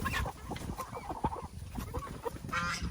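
Chickens squawk and cluck in agitated bursts while being caught for butchering, close and loud amid scuffling and flapping, with short harsh calls scattered throughout.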